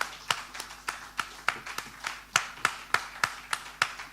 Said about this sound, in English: Can we give a big round of applause to all our candidates?